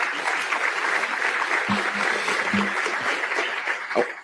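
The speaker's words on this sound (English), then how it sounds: "So please give yourselves another round of applause for that." Audience applause fills a room at a Pancakes & Politics regional forum, a sustained, dense round of clapping that continues for the whole stretch with a few louder claps near the end.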